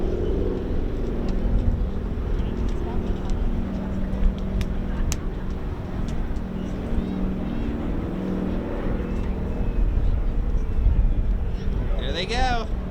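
A WWII-era aircraft called Wildcat flies a parachute jump run at an air show, its steady engine drone filling the scene at moderate distance while an announcer talks over it.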